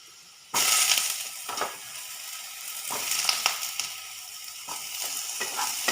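Pumpkin stir-frying in a pan, starting abruptly from quiet into a bright, steady sizzle, with a few scraping stirs of the spatula cutting through the hiss.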